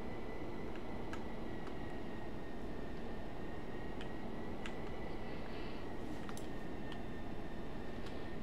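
An aircraft taxis in the Roblox game Aircraft Carrier, a continuous low engine rumble with a steady whine above it and a few faint clicks, no talk heard.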